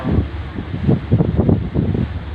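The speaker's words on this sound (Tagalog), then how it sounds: "Nag-i-enjoy ako sa hangin, ang sarap." Strong wind buffets the microphone on a small boat at sea, a steady low roar with gusting pulses and no speech.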